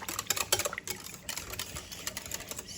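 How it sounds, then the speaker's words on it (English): Milk, vegetable oil and eggs whisked together for a pumpkin spice flan: quick, rhythmic clicking taps of a whisk against a bowl, fairly close and quiet, with no talk over it. "And then here, you want to whisk it."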